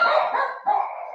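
A dog barks close and loud, two drawn-out, whiny yelping barks in quick succession.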